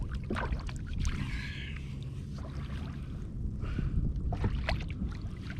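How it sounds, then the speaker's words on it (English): Kayak paddling through open water while fishing for mackerel, with steady splashing and sloshing strokes and some wind noise across the microphone, continuous and close. "I'm not even going to think about it, I'm just going to keep paddling."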